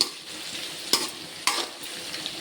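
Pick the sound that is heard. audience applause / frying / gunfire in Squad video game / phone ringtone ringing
frying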